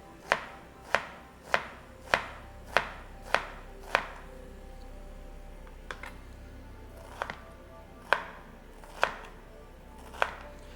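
A knife chops pequi on a cutting board in a run of sharp, evenly spaced close knocks, which pause briefly and then come back less regularly.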